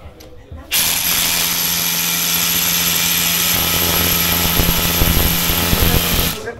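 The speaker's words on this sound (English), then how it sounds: "First, you need to set the anchor. Just push the button." A Hilti power tool sets an anchor during a demonstration at Hilti's headquarters, starting abruptly with a loud, continuous whirring rattle that holds for about six seconds before cutting off, with faint voices underneath.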